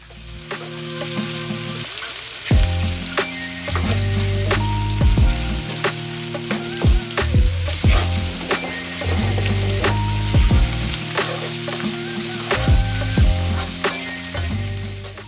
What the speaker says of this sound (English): right here I'm just going to brown and crisp up the sausage.